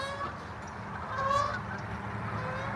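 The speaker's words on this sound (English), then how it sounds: "Guys, they're geese." Geese honk repeatedly at a moderate distance over a steady outdoor background, a few overlapping calls rising in the middle, with no talk.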